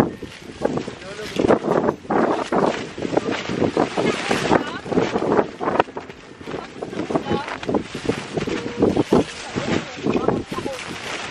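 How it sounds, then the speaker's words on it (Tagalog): Strong mountain wind buffets the microphone in rough, gusty bursts on a hillside peanut farm, loud and uneven, with people talking intermittently beneath the rumbling gusts. "Lakas ang hangin."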